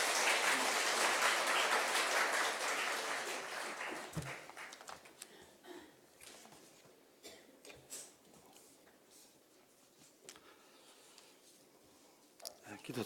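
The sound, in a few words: applause welcoming a speaker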